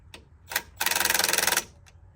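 Bolts being run back into an old V8 engine with a ratchet: a fast, even train of about fifteen clicks lasting under a second, preceded by a couple of short clanks, close and fairly loud with no talking.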